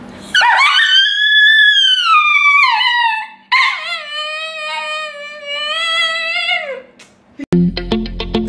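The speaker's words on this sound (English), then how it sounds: "Bark at your dog to see their reaction." A dog answers its owner's barking with long, loud howls held close to the microphone, two drawn-out wavering cries in turn, then ends in a short burst of yips and barks.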